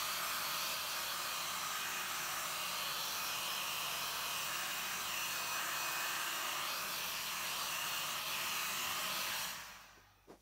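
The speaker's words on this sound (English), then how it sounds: "I can't wait to use my heat gun." A heat gun blowing on wet acrylic paint gives a loud, steady airy whoosh that holds unchanged, then switches off and winds down just before the end.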